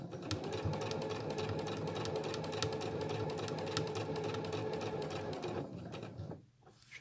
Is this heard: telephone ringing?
no